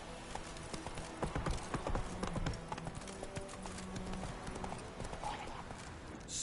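Roach, the horse from The Witcher 3, gallops in a steady clip-clop of hooves with an occasional faint whinny, fairly close and continuous throughout.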